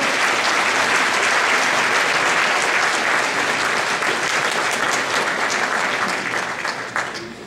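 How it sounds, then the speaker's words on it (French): Sustained applause from an audience at a mayor's New Year address in a French town hall, as the police commissioner and deputies are welcomed onto the stage, dense and steady before fading near the end. "On les applaudit très fort."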